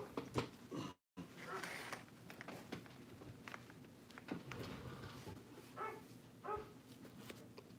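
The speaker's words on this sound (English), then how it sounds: "Now my pit bull is barking." A pit bull barks in scattered bursts nearby, with a muffled, irregular rhythm and some background noise between the barks.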